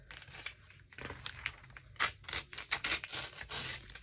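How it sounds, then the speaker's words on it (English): Scissors cutting boots out of a glossy magazine page, a run of crisp snips and paper crinkles, close and quiet, growing busier toward the end. "Ooh, definitely think I'll cut out these boots."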